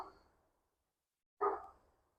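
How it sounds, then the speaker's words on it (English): Two short dog barks separated by about a second of silence, the second louder and closer, with no other sounds around them. "It's Kylo barking."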